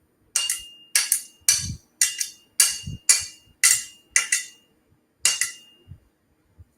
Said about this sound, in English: then you strike the end of the hammer